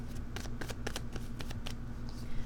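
Tarot cards being shuffled during a reading, a rapid series of crisp riffling flutters at close range, with no talking over them.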